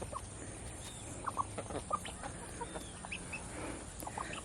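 Chickens on a North Florida homestead settle their pecking order with scattered soft clucks and brief calls, fairly close, over a quiet outdoor background and with no talking.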